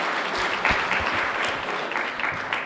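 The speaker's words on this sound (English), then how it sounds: "Let's give them a round of applause for breakfast and for hospitality." A breakfast crowd at a congressional candidate forum at Hager Hall claps together in a brief, even burst of applause that stays steady and fairly close.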